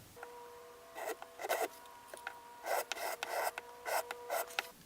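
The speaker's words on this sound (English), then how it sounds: "I want to sand in an angle to the headstock veneer so it butts up right against the Graphtec nut here perfectly" Sanding an angle into a guitar headstock veneer so it meets a Graphtec nut on a fretless guitar build, heard as several short raspy bursts of abrasive strokes with brief pauses between them, close and moderately loud.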